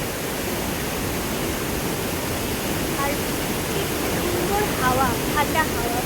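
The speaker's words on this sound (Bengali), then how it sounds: "তিস্তা নদী, আর এখানে এত জল আসছে" The Teesta river rushes past below hills at Gajoldoba, a loud, constant broadband roar of flowing water with a few faint chirps rising above it near the end.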